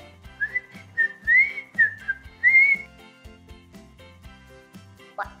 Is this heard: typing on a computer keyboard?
no